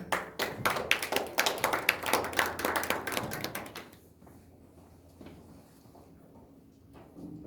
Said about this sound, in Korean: 여러분 나선아 선생님을 큰 박수로 맞아주시기 바랍니다